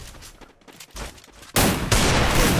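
Gunfire in a 3 versus 3 custom video game match: a moderate spatter of shots gives way to a loud, sustained burst of rapid automatic fire that fills the second half.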